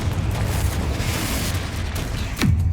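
Confringo blasting spell explosions in the Hogwarts Legacy video game, a rumbling blast followed by a sharp, heavier boom with a deep thud near the end.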